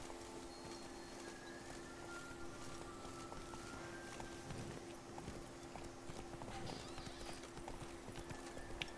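Horse hooves clip-clopping in The Witcher 3, faint and steady under a dense game soundscape with a continuous hum, with a few slightly more distinct hoof thuds midway.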